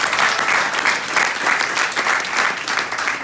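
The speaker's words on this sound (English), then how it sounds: "So if we can give a big round of applause to those individuals." Audience applause at a UK business leadership meeting for a new market launch, a steady loud wash of many hands clapping that fills the room from start to finish, with no talking over it.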